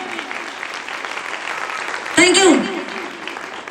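An audience at a seminar claps in a continuous patter of applause, moderately loud, with a speaker's voice briefly rising over it near the end.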